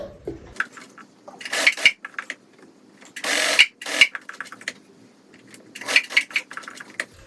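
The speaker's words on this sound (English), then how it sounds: "So I'm going to get my sewing machine cracking and see if I can stitch this on." Domestic sewing machine stitching an appliqué onto an old knitted jumper, heard as a few short, separate bursts of rapid mechanical clatter with quiet handling pauses between them.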